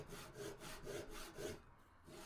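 A Japanese pull saw cuts through wood in a quiet, even rhythm of rasping strokes, each pull a soft scrape, with a brief pause before the sawing resumes.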